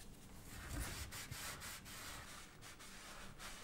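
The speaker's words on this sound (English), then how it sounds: "use a small piece of sandpaper to abrade the first 20 to 30mm of the duct to further improve sealant adhesion" A small piece of sandpaper scrubs the end of a plastic cable duct. The rubbing is soft, steady and faint, heard close up with no talk.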